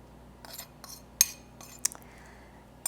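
Utensils clinking and scraping against bowls while almond flour, all-purpose flour and salt are stirred together for paw print cookies; a few sharp metallic taps and light clinks spaced irregularly, fairly close, with quiet scraping between.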